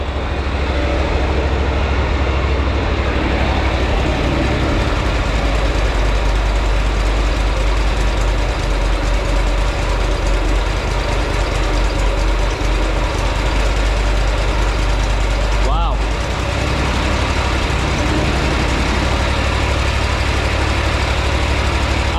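A Wright Stander X mower engine, repaired after a blown motor, idles steadily and loudly for about twenty seconds with a deep, constant rumble and a slight fluctuation, and no one speaks over it.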